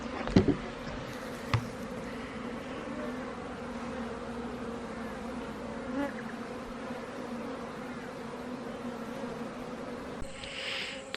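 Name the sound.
honey bees buzzing around an open beehive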